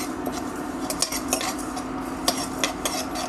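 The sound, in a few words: cumin, fenugreek, pepper, cloves and cardamom frying in a pan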